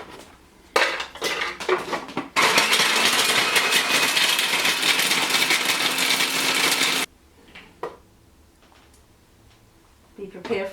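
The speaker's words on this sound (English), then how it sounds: "You would take these out and then you would stick them in a food processor and get them down to a powder." A food processor grinds dried soup herbs into powder in one loud, steady roaring burst of about five seconds, preceded and followed by clattering of the lid and bowl being handled up close.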